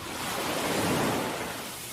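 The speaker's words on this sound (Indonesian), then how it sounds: "Ombak kecil memercik." Small waves splashing against a boat, a steady soft wash of water rising and falling gently, close and continuous with no voices.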